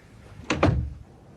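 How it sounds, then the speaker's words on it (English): A door is pushed shut in an old radio drama scene, two quick heavy thuds close together, near and fairly loud over a faint hiss. "And let's shut the damn door."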